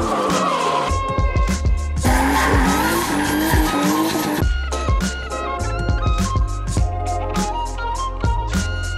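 Drift cars slide around a circuit during the final round of a national drift championship in Semarang, with loud continuous engine roar, screeching tires and repeated revving bursts throughout, close and dominant.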